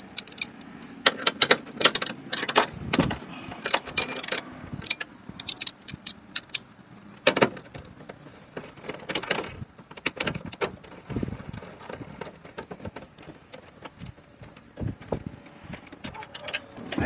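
A ratchet removes bolts from the hybrid battery fan of a 2010-2015 Toyota Prius, with close rapid clicking bursts, metallic jangles and tool clatter scattered irregularly throughout.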